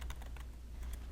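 Fingers typing on a computer keyboard in a graphic design lecture room, a quiet, irregular run of soft keystroke clicks with small gaps between bursts.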